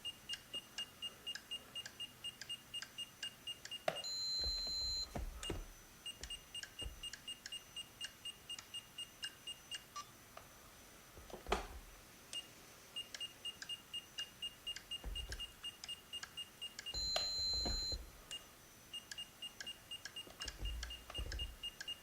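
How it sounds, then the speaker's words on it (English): A channel 1 steering servo on an RC car whirs in short repeated bursts, set against a steady pattern of electronic beeps and clicks from the transmitter's digital trim switches, all faint and close. "it's moving the channel 1 steering servo"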